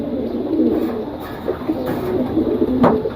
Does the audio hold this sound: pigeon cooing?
yes